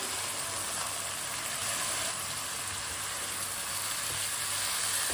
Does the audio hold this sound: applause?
no